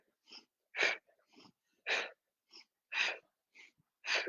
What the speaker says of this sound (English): Forceful exhales.